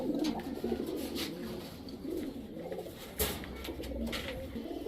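Giribaz high-flyer pigeons coo softly and repeatedly in a steady low murmur, with a few louder bursts, heard close by with no talking.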